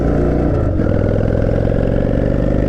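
A Honda Shadow motorcycle engine rumbles loudly and steadily close by, a deep throbbing drone with a slight shift in pitch partway through.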